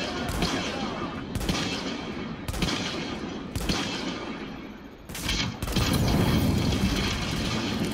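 Bursts of gunfire crack through a firefight in the shooter game The Division at Hudson Refugee Camp, loud repeated shots in uneven volleys with brief pauses, growing denser and more sustained toward the end.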